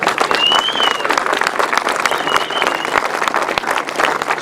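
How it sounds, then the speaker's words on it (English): An outdoor crowd at the 2012 British Masters grasstrack meeting applauds a trophy presenter with dense, steady clapping that lasts throughout. Faint voices sit under it. "Big round of applause, please."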